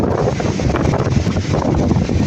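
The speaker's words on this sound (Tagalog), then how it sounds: "May tumating na hangin, no?" Strong gusting wind roars across an open harvest field ahead of an approaching typhoon, a loud, steady buffeting rush hitting the microphone with no break for the whole stretch.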